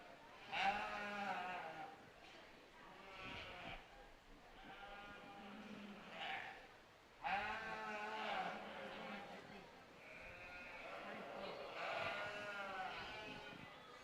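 Breeding ewes at a county fair show bleat repeatedly in drawn-out, wavering calls, several overlapping nearby, while an announcer and other people talk over the livestock noise.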